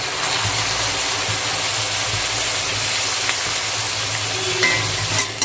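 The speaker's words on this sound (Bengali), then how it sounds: "ব্রাউন হওয়ার পর্যন্ত আমাদের পেঁয়াজটাকে ভাজতে হবে।" Onions frying in a pan for chicken korma, a loud, steady sizzle that runs throughout with a few faint stirring clicks near the end.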